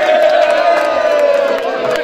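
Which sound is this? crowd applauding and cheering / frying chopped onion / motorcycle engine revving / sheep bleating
crowd applauding and cheering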